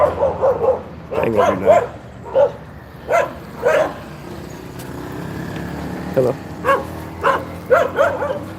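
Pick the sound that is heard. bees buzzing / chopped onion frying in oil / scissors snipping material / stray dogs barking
stray dogs barking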